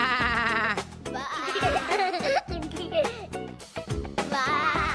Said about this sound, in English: And what sound does a sheep make?